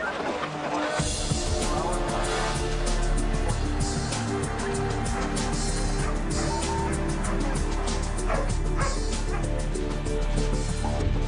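Search and rescue dogs bark and yip repeatedly in a busy outdoor crime-scene search, their calls layered over steady background noise with no clear speech.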